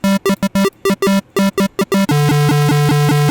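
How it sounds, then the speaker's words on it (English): A synthesized square-wave pluck that begins at a high octave and immediately drops lower, heard as a rapid run of buzzy, evenly spaced staccato notes, then a sustained pulsing buzzy tone. "I have the ability to make a square pluck by taking a square wave and making it start at a high octave"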